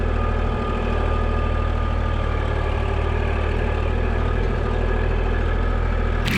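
A heavy tractor engine idles steadily nearby, a constant low rumble with a faint mechanical hum, cutting off abruptly at the end.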